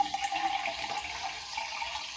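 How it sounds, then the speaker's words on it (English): Plain soda water fizzing and bubbling, a steady close hiss of carbonation with faint crackles, alone without talk. "Listen to those bubbles."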